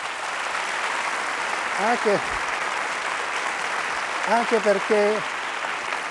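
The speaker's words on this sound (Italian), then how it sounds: "un applauso" A studio audience applauds a guest on an Italian evening television show, a steady wash of clapping that runs the whole time while someone speaks briefly over it.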